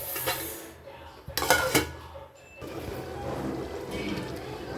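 A spoon stirring chicken curry in a metal pot after chili powder and water are added, with clanking and scraping against the pot and a louder burst of clatter partway through.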